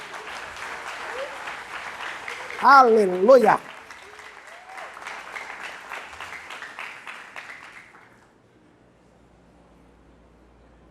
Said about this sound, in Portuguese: Você pode aplaudir a ele mais uma vez?